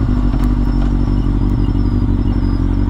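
A 2010 Kawasaki ZX6R motorcycle engine drones loud and steady while riding, a continuous close buzzing roar with no talk over it.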